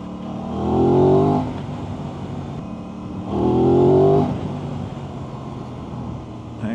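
Aprilia RS660 middleweight sports motorcycle engine under riding load, pulling smoothly from around 2000 RPM on Pirelli tyres; two swelling surges of engine drone rise and ease over steady road and wind rumble, close and loud, with no talk.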